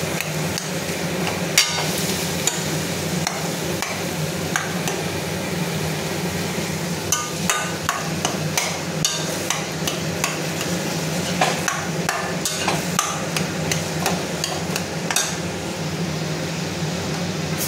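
A utensil stirs green chilies in a cooking pan, giving quick irregular clacks and scrapes against the metal over a constant frying hiss, close and fairly loud with no voices.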